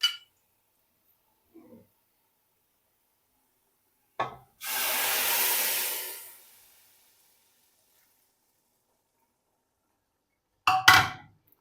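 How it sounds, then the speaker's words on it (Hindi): Hot fried tadka poured into simmering masoor dal gives a loud sudden sizzle lasting about two seconds, framed by a few clinks and knocks of a spoon against the pot in an otherwise quiet kitchen. "अब मैं फ्लेम को ऑफ कर दूंगी और बघार को शामिल कर दूंगी पकती हुई दाल में।"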